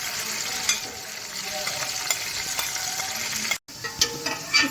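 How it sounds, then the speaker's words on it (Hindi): Chicken pieces frying in hot oil in a pot for chicken pulao, a steady close sizzle with stirring scrapes throughout and a brief break near the end. "इसमें जो हमने चिकन ऐड किया है उसको हम डार्क ब्राउन करेंगे।"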